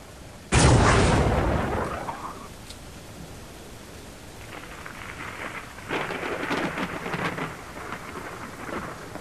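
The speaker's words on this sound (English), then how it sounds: "I'll attach a pack of atomic USB grenades to a rocket and shoot it over the hill" A loud explosion from a pack of atomic USB grenades fired on a rocket over a hill in the video game G.o.T. bursts suddenly, then rumbles and fades, followed by a scattered crackling debris-like wash.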